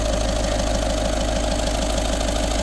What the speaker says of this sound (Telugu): ఇంజన్ చాలా సైలెంట్గా ఉందన్నమాట.